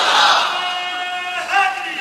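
A large crowd at a religious gathering chants slogans in unison, a loud roaring swell of many voices that dips slightly and then rises again in a second burst.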